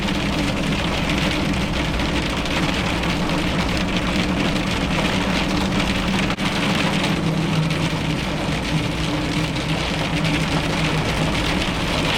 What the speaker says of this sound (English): Arctic thunderstorm.